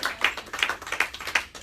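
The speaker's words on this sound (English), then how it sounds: "Okay, let's give Kai Young a round of applause." A handful of people at a live health and weight-loss session clap together, sharp individual handclaps sounding close and irregular in a short burst, with no talking.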